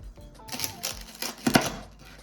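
A knife cuts through crispy achiote pork belly chicharron cooked over a fire, giving a few sharp crackling crunches close up, loudest near the end.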